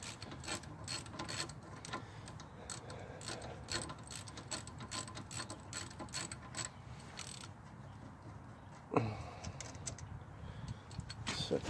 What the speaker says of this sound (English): take a 14mm socket and take these two nuts off of here